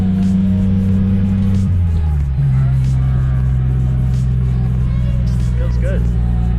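A supercharged Geo Metro with a rusty body cruises in third gear, its engine droning steadily and loud throughout, with a brief pitch drop around the gear hold and people talking over the cabin rumble.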